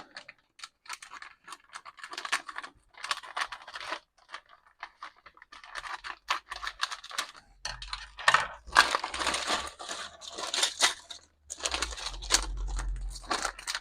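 Parts packaging for a Star Wars Millennium Falcon model kit is cut open, giving scattered crinkles, snips and small clicks in irregular bursts. The sound is close and moderately loud, with occasional low bumps against the tabletop.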